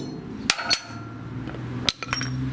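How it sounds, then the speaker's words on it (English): Hammer tapping a 1/4 inch pin punch through a hole into the shaft of an Echo Bearcat chipper shredder, heard as a few sharp metallic clinks spaced apart, up close and fairly quiet. "you put a 1/4 inch pin punch right through this hole. And then you can tap it"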